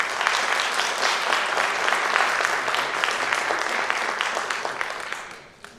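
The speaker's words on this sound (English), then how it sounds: "Can we please have a round of applause for President Raymond Cummings?" An audience at a teachers' union candidate showcase gives a round of applause, a dense burst of clapping that holds steady and then tapers off quickly at the end.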